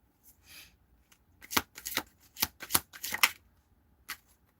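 Tarot cards are shuffled in several quick riffling bursts, close and fairly quiet, with short pauses between them.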